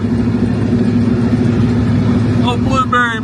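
Engine of a 5-speed car nicknamed Blueberry pulling away at a Cars & Coffee meet, a steady low mechanical hum throughout, with voices and a brief higher whine near the end.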